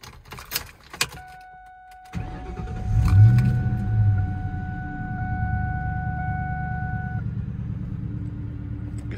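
A 2001 Ford Mustang Bullitt V8 is started up: a few clicks and a chime, then a short crank that catches into a loud, deep rumbling idle that settles and holds steady.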